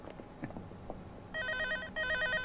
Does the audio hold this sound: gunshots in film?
no